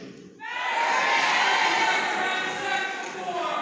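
A theater audience at a Rocky Horror Picture Show screening yells out in unison, a loud sustained roar of many voices that swells quickly and holds for several seconds.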